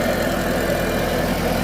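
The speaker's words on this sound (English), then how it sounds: "Now that to me sounds like a healthy engine." Audi TT 8N with the 1.8T 225 engine idling steadily, a continuous close, loud low rumble with even rhythm and no voices over it.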